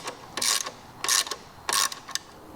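Ratchet wrench clicking as Akrapovic head pipe clamps are tightened on a 2023 Vespa GTS HPE scooter exhaust, three close bursts of rapid ratcheting separated by short pauses, with no talking.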